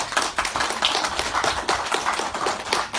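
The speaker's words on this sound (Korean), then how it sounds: "나태주 선생님께 박수 한번 쳐주세요." An audience claps in appreciation for poet Na Tae-ju at a Changwon Kim Dal-jin literary festival, a dense, steady burst of applause filling the room for a few seconds.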